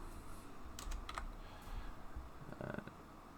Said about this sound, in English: Why am I typing in the outline?